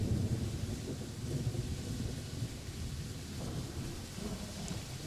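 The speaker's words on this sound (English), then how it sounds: "In the rain." Steady rain hisses and patters at a heritage railway station, a close, continuous wash of falling water with a low rumble underneath and no voices.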